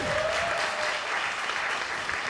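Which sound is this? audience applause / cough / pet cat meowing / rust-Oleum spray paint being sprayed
audience applause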